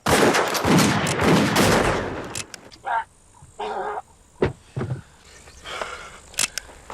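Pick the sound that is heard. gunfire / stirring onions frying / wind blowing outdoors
gunfire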